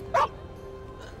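A single short, loud dog bark rings out up close in The Inquisitor video game, followed by a faint low background hum and quiet.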